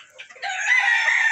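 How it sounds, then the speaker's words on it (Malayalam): A native farm rooster crows once, close and loud, its call rising and holding for about a second. "കൂടുകളിലും കുറേ പൂവൻ കോഴികൾ കിടപ്പുണ്ട്."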